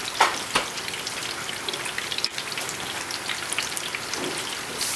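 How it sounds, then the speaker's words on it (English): Steady crackling sizzle of Hmong egg rolls frying in hot oil, with a few sharper pops and spatters, continuous throughout with no talking. "So it's still frying."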